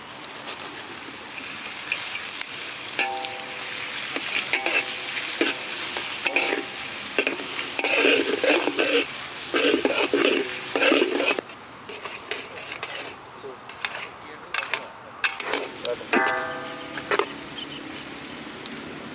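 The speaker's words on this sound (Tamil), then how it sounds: "பொடிசா நறுக்கின வெங்காயம்," Finely chopped onions frying in butter and oil in a pan at an outdoor village kitchen in Malaysia, with bursts of sizzling and repeated stirring scrapes and clinks. The sizzle drops back partway through, then more stirring follows.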